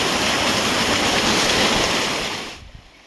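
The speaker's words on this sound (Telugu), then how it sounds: "చూస్తున్నారు కదా వాటర్ ఫాల్ అయితే ఏ విధంగా కనిపిస్తుందో" The tall Vasudhara waterfall in Andhra Pradesh gives off a steady, dense rushing roar of falling water that stays loud and even, then drops away sharply near the end.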